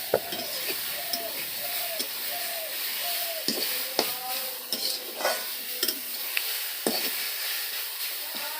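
Food stirred in a cooking pan with steady scraping strokes and occasional metallic clinks of the spoon, close by over a faint sizzle, no talking.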